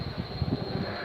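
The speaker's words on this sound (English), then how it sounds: "Once climbing, the aircraft is rolled to 90 degrees angle of bank" An Apache helicopter flying a wingover manoeuvre, a low, steady rotor and engine drone with a thin high whine, heard briefly and at moderate distance.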